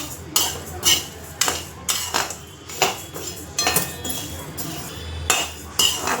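Rice being dry-roasted and stirred in a pan over a low gas flame, with repeated metallic scrapes and clinks of a spoon against the pan in an irregular rhythm, close and clear with no talking.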